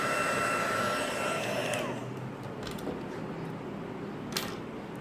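A heat tool blows hot air over chipboard for heat embossing, a loud steady whirring roar that cuts off after about two seconds, leaving quieter room noise and a few small knocks.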